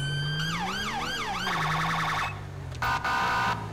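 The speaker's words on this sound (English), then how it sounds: "We have a siren." In-game UK police car siren in a modded GTA V patrol, loud and close, cycling through a rapid wail, then a fast yelp, then a two-tone pattern with brief breaks.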